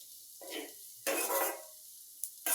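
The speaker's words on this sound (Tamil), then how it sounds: "அதுக்கப்புறம் கேப்சிகம் போட்டு வதக்கி எண்ணெயிலே வதக்கிற வேண்டியதான்" Capsicum sautéed in oil in a pan, heard as short bursts of stirring and sizzling with spoon scrapes against the pan, close by with no talk.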